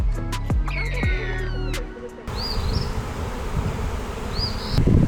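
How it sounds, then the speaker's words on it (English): Honeybees around hives at a raptor centre, a steady, close buzzing drone that carries through the whole stretch under wind and outdoor noise. "what is that noise? They must have honeybee"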